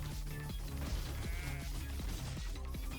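Sheep bleat in a wave-based video game amid game music and impact effects, the calls loud and repeated over a steady rhythmic backing.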